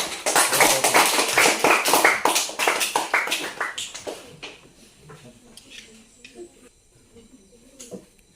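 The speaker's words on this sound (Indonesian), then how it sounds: "tepuk tangan sekali lagi" A burst of classroom clapping during a lesson, loud and dense at first, thinning into scattered claps that fade out, with faint voices near the end.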